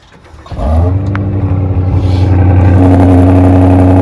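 An Aston Martin SUV engine cranks and catches at about half a second, then settles into a loud, steady idle with a deep, throaty rumble that continues to the end.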